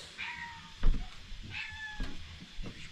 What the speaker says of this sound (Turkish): Kediye peynir verin Salih.